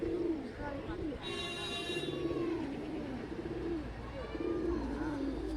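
Pigeons, including a hen, kept by a breeder for flying and breeding, coo in low repeated throaty rolls, fairly close, while someone talks over them.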